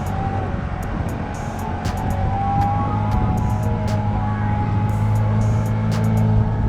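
A 50cc moped runs at full throttle with a steady buzzing drone and rushing wind noise, held constant throughout.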